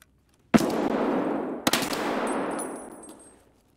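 Gunfire in the video game Escape from Tarkov: two sharp, loud shots about a second apart, each ringing out into a long echoing tail that fades away, no speech.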